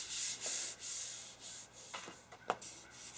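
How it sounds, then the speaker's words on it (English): Coarse sandpaper rubbed back and forth over the wood of a restored Union Tool Chest Co. machinist tool chest, soft rhythmic scratchy strokes, close and fairly quiet, with a few sharper scrapes near the end. "you need to use a heavier coarse sandpaper, and that will get off the bulk of it a lot faster"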